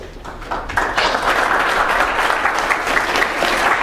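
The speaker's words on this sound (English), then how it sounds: "Like the most reluctant applause ever." An audience at the end of a tech conference talk breaks into steady applause that swells after a moment and continues evenly, many hands clapping together.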